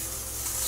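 A short, steady hiss of spray paint from the Such Art PC app, a bright airy burst that holds for under a second with no talk.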